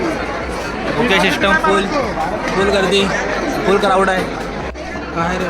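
Dense crowd chatter fills a busy buffet hall at a gathering where people queue for food, with overlapping voices and babble that stays loud and steady throughout, and one nearby voice briefly speaks over it.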